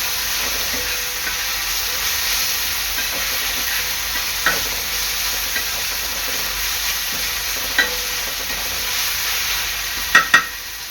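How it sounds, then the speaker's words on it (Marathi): Onion sautéing in ginger-garlic, chilli and coriander paste: a steady hissing sizzle held for about eleven seconds, with a few soft stirring scrapes and a couple of sharper clacks near the end. "आपल्या वाटणामध्ये कांदा चांगला मिक्स करून परतून घेतला आहे मी"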